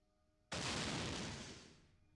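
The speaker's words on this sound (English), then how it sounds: "The explosion rips the door off its hinges." An explosion blows a door off its hinges in Fallout 2, one sudden loud blast that erupts out of near silence and rumbles on for over a second before fading.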